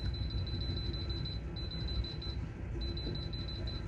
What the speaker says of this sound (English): Set my timer to 30 minutes.